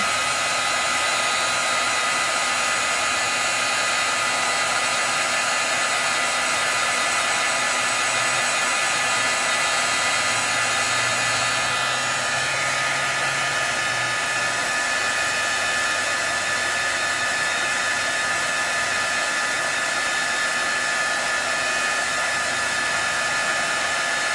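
Hair dryer blowing on pigment paint on a paper leaf, a steady loud whooshing motor hiss with a constant whine, unbroken and close.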